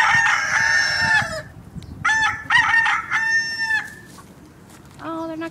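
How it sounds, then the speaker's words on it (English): A rooster crows loudly and close by, several long cock-a-doodle-doo calls in a row, the last one shorter, with clucking from other fowl in the background. "This dude here is gonna start crowing."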